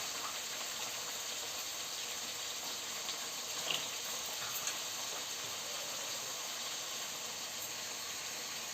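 A crab is rinsed under a running kitchen tap, giving a steady, close hiss of flowing water with a few faint splashes and clinks partway through.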